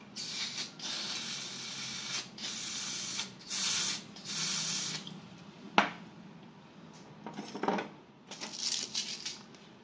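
Gas being charged into an EMG Sand Viper airsoft gun: several sharp hissing bursts of escaping gas, close and fairly loud, separated by quieter handling noises and a small click.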